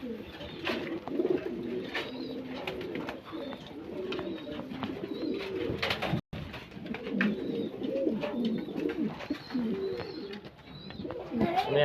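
Imported white King pigeons coo in overlapping, rolling calls close by, a steady chorus of soft throaty burbles with occasional sharper notes and a brief pause midway.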